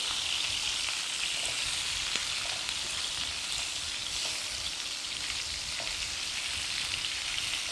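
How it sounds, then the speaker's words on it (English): Cauliflower pieces stir-frying in melted butter and oil in a pan, a steady dense sizzle with faint crackles and occasional soft stirring taps, continuous and close with no talking. "Just stir fry this a little."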